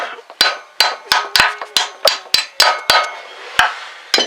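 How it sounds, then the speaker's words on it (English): A hammer strikes metal about a dozen times in a quick, fairly regular rhythm, tapping a car alternator part into place, loud and close, each blow ringing briefly. "now I can take the hammer and tap it the rest of the way through"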